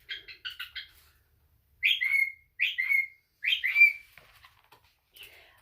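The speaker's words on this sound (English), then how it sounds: "My bird is going very crazy." A pet bird indoors chirps excitedly in quick bursts: a run of rapid tweets, then three sharp whistled phrases with short pauses between them, close and clear, trailing off into softer chirps.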